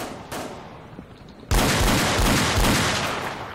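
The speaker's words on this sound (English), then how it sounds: "Here, shots fired." Gunfire in the GTA V LCPDFR police mod erupts suddenly after a quieter stretch of ambient game sound, turning into a loud, dense burst of rapid shots that continues steadily to the end.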